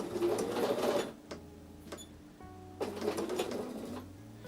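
Sewing machine stitching through a Christmas quilt table runner, two sustained runs of fast, even stitching separated by a pause with a few clicks and a low idle hum, close and fairly loud.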